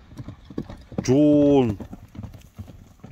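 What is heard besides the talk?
horse hooves clip-clopping while ridden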